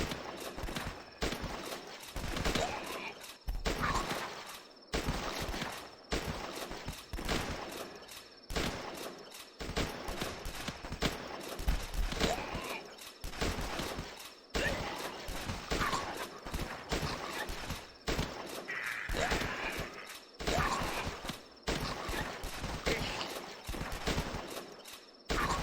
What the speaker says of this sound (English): Okay, keep on firing. Keep on firing.